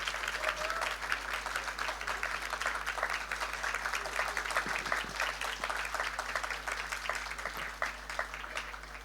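Sustained clapping from a large audience at a stage conversation event, a dense and fairly steady patter of hands continuing throughout at a moderate level.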